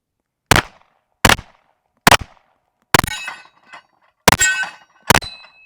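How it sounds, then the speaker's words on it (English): Six loud pistol shots fired at a steel plate rack, close and sharp, with several followed by bright metallic clangs and ringing as rounds strike the plates; no talking. "All right, shoot the gun."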